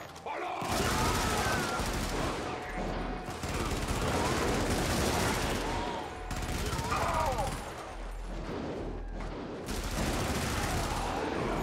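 Continuous heavy gunfire and booming cannon blasts in the Helldivers video game, loud and dense, with bursts of fire running nearly without pause through the clip.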